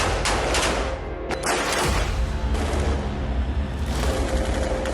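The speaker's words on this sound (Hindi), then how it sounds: "वेस्ट बैंक के जेनिन में आईडीएफ ने हमास के लड़ाकों पर जबरदस्त फायरिंग की।" Heavy gunfire from Israeli forces in Jenin in the West Bank, a dense, continuous barrage of overlapping shots and booms, loud and unbroken, with no voices.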